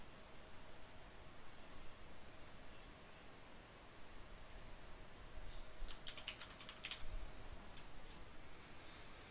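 Faint typing on a computer keyboard, a quick run of soft key clicks in the middle of a quiet room with a low hum, no talk.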